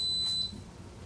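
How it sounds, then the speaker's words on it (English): An electric pressure cooker gives a single high electronic beep near the start, short and clear over a quiet low hum, used while pickling eggs. "now we're going to hear it beep to let us know that it understands our instructions"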